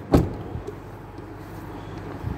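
A Genesis GV70 crossover's door without soft-close shuts with a single solid thump near the start, followed by quiet cabin hum.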